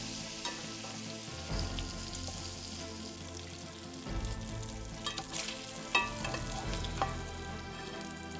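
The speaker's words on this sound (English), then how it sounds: "I'm going to be adding some bacon grease to the pan. I'm gonna go ahead and add in the kielbasa and let it cook until it's browned." Kielbasa frying in bacon grease in a pan, a continuous close crackling sizzle with occasional sharper pops and stirring scrapes, no voices.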